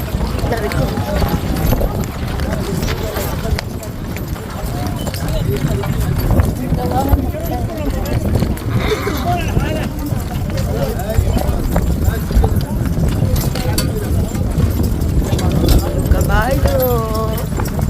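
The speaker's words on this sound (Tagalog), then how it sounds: "Kabayo." Horse hooves clip-clop steadily on a street in Egypt, continuing throughout under nearby people talking and the bustle of traffic.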